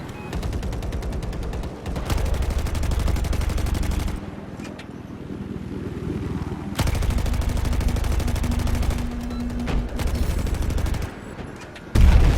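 Sustained rapid gunfire rattles almost nonstop in a video game, broken by a brief lull. A heavy RPG blast lands near the end.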